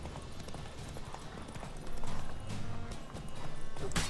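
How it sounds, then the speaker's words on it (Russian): A horse gallops in The Witcher 3, with rapid rhythmic hoofbeats clopping steadily amid game ambience, growing a little louder partway through and ending with a sharp burst. "Конь разогнался слишком, остановись."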